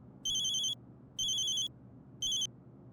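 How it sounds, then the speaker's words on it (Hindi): A telephone rings in three evenly spaced electronic bursts, loud and close over a low background hum. "मैडम सर बिल्ले का फोन लगा, बिल्ले का फोन"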